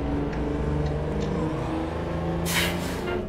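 In an American truck-driving game with a Christmas event, a vehicle engine accelerates with a steady droning hum, followed by a short hissing burst like an air brake release near the end; no talking.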